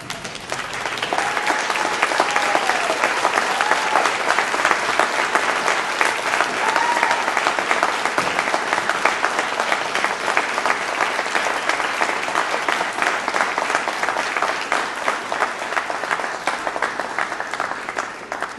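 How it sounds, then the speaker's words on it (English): Graduates at a University of Guelph convocation stand, turn toward their supporters and give a thunderous round of applause: sustained, dense crowd clapping that builds quickly and holds at an even level for nearly twenty seconds. "give them a thunderous round of applause"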